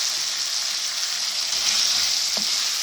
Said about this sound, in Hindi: हाफ़ कप मैंने मटर डाल दी। इनको मैं अच्छी तरह भूनूँगी।